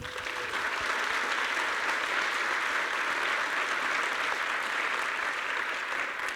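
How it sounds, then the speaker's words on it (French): Sustained, dense applause from a large conference keynote audience in Toulouse, clapping steadily and loudly throughout without pause. "On peut faire du bruit pour eux, pour les applaudir."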